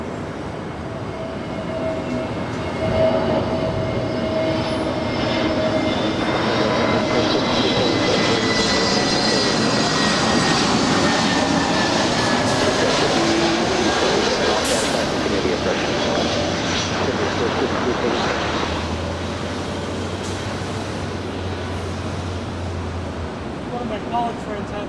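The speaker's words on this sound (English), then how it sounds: "American Airlines Flight 1454 coming in from Miami. It's an A321neo is the next arrival and 24 right." An American Airlines Airbus A321neo arriving at LAX on runway 24 right, a loud, continuous jet roar that swells and holds steady at close range across the whole stretch, with no voices over it.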